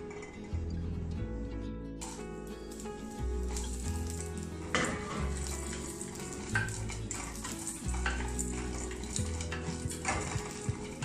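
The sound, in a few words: frying gram in oil on stove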